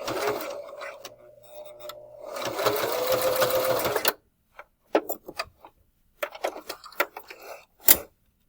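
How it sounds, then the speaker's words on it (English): A sewing machine stitches elastic along the edge of a fabric face mask in a loud, steady whir for about four seconds, then stops and gives way to scattered clicks and handling noises with a sharp tap near the end. "all I'm doing is sewing the elastic on this very edge here"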